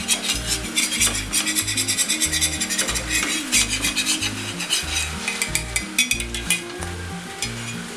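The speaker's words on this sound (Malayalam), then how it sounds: "പെട്ടെന്ന് തന്നെ ഇളക്കിയെടുക്കാം." A spoon stirs naan dough mixture in a hot pan, making rhythmic scraping strokes about twice a second over a constant sizzle, close and fairly loud.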